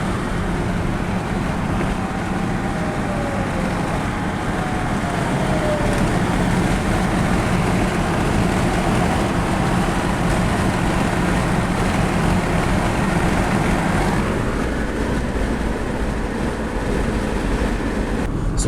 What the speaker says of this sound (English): Since I don't have a fourth gear, it stays at high RPM anyway, so we'll give it some beans as we merge.